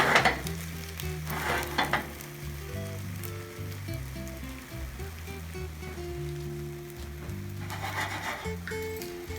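Raw egg cooking in a non-stick pan for a cheese omelet, a soft, steady sizzle with light pan scrapes, under a continuous background of sustained musical tones.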